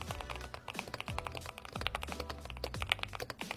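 Close-up typing on a Hall effect magnetic-switch gaming keyboard: a quick, uneven run of soft clacky keystrokes with a few louder taps, alone and quiet.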